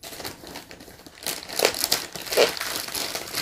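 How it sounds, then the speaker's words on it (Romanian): Plastic foil being peeled off the box of a Ducky One 3 SF keyboard, crackling and crinkling in close, uneven bursts that grow louder partway through, with no talk. "haideți să o scoatem din folie și să începem"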